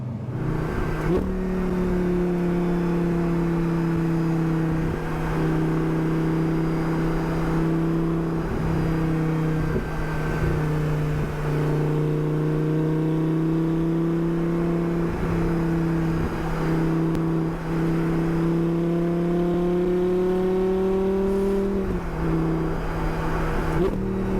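An Audi R8 with a V10 engine drones steadily while being driven, its tone rising and dipping slightly with throttle and holding loud and continuous throughout, with no talking over it.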